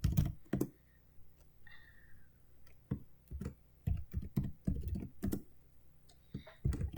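Keys clatter in short irregular bursts of typing on a computer keyboard, close and fairly quiet, with pauses between clusters of taps.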